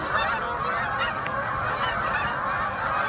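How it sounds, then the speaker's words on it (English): A second flock of geese passes overhead, their honks overlapping in a continuous noisy chorus at middle distance, alone without any voices. "There's another set of geese."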